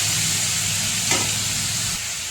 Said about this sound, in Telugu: ఇప్పుడు ఈ కూరని కూడా పోపు వేగిపోయింది, దీంట్లో వేసేస్తున్నాను